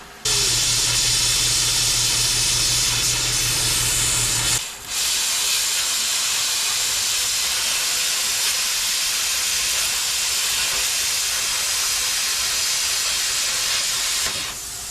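A cheap plasma cutter cuts metal using compressed air from a large compressor, giving a loud continuous broadband hiss with a low electrical hum for the first few seconds, then a brief dip before the steady hiss resumes.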